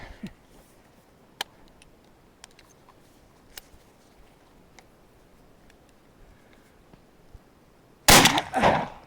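Shotgun fired through a choke at a turkey target, one loud, sharp blast near the end after several seconds of quiet outdoor ticks and clicks.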